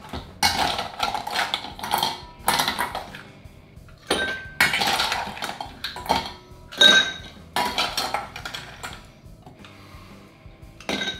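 A bar spoon stirs a James Bond cocktail with dry vermouth over ice in a mixing glass, giving bursts of clinking and rattling ice against glass, close and fairly loud, with short pauses between the stirring runs.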